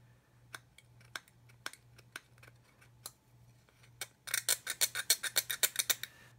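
Blade cutting a plastic part of an Airfix 1/32 Humber scale model, first a series of sparse light clicks and ticks, then a rapid burst of about a dozen crisp snipping cuts, close and without talk.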